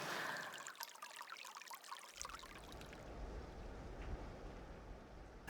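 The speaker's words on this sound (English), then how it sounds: "slow-moving water now." Slow-moving water trickling and flowing in a restored river valley in South Africa, a soft continuous wash that shifts from a brighter splashing trickle to a steady low flow, moderately near and with no talk.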